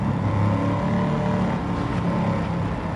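A steady, loud engine drone with a rough, grinding undertone runs throughout, like a heavy vehicle labouring at constant revs: an engine-swapped Toyota Tundra in Gran Turismo 7, sounding faulty.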